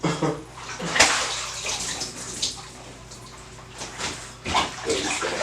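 Water runs and sloshes while latex clothing is rinsed in a filling tub, with a steady wash of flow and a few louder splashes and thumps along the way.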